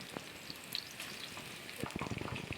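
Slices of raw banana for chips drop into hot oil and fry with a soft, steady sizzle that grows into bubbly crackling near the end. The sound is faint and close.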